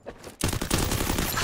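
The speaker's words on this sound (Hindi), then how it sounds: "प्रिंस सिंह का लाजवाब हेडशॉट" Sustained automatic gunfire from the video game Garena Free Fire, a loud dense burst of rapid shots starting abruptly after a short quieter lead-in.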